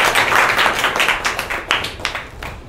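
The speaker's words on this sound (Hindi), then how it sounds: "तालियां बजाइए इनके लिए।" Schoolchildren in a government school classroom clap their hands together, a loud close burst of many overlapping claps that thins into scattered individual claps near the end.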